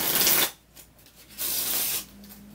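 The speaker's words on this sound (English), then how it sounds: "I'm gonna get out 13 cards after I shuffle the deck" A deck of playing cards is shuffled in two short riffling bursts, each about half a second long, with a quiet pause between them. The sound is close and crisp, and no one speaks.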